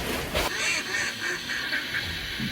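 Decoy ducks quack from the water in front of a duck hunting hide in the Landes, giving a repeated series of nasal calls at moderate distance over a steady outdoor hiss.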